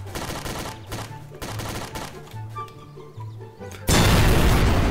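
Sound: pistol gunfire in video game Garry's Mod

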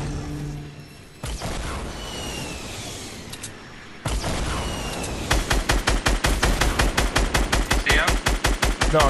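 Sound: gunfire shooting trees down in a video game

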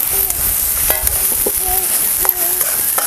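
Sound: tomatoes and spices sautéing in oil

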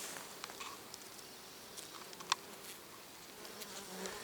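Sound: bee buzzing on mulberry tree

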